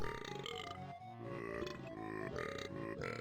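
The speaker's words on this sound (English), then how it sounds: "I'm Captain Blubber, who talks and burps." Captain Blubber, the hippo in Banjo-Kazooie, lets out a long, loud, rumbling burp that wavers in pitch and runs for several seconds with a brief dip partway.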